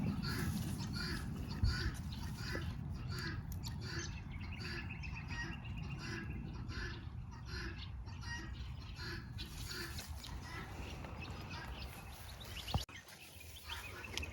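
Birds chirp in small repeated calls over a steady wash of outdoor noise, with a brief knock near the end.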